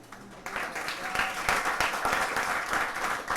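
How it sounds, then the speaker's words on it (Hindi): A class of students breaks into clapping after a quiet start, building into dense, lively applause from a room full of hands that carries to the end, with a voice speaking faintly underneath. "सब लोग इसके लिए तालियां बजाओ।"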